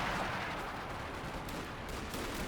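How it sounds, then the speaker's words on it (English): Artillery barrage in the strategy game Company of Heroes 2, landing on a strategic point: a dense, continuous rumble of shell blasts and scattered gunfire, loud and unbroken throughout. "Artillery barrage flying at the strategic"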